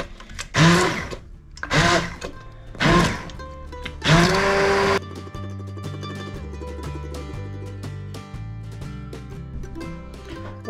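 A Ninja Foodi blender whizzing carrot and lentil soup, starting with four loud pulsed bursts that each rev up and cut off, then settling into a steadier, lower whirring drone as the blades run continuously.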